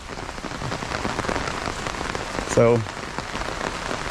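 Steady rain pours down outdoors by a homestead pond, a dense, even patter throughout, with a single brief spoken word partway through.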